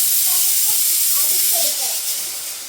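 A pressure cooker on a home stove lets off a steady, loud hiss of steam that fades slightly toward the end, with faint voices and kitchen sounds under it.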